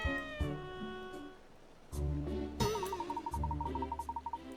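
A cartoonish cat meows in Layton's Mystery Journey, a few distinct meows followed by a rapid warbling, trilling cry, loud and close, with game music underneath and no talking.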